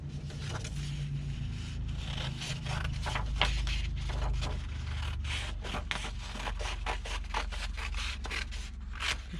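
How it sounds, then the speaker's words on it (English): Scissors snip through paper along a folded crease while making a pop-up book, producing a quick run of dry, crisp cuts with short scraping strokes, close and alone. "I'm going to cut this in half just along that crease"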